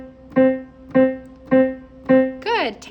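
Four light, bouncy staccato piano notes on one key, evenly spaced and quickly released, each ringing only briefly, followed by a short rising slide of sound at the end.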